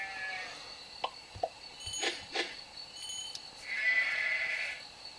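Cartoonish sheep bleats from the iPad game Leap Sheep HD, a few short calls and little blips over a quiet background, ending in a longer, higher bleat.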